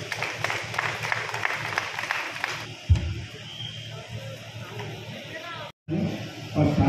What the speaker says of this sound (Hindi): जोरदार तालियों से हम उनका अभिवादन करें